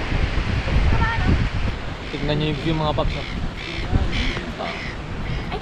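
Ocean waves crash on an Australian shore with a continuous, loud, windy roar and surging swells, while someone talks over the surf.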